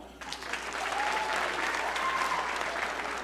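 An audience at a stand-up comedy show breaks into sustained applause, a dense, close wash of clapping that holds steady for a few seconds.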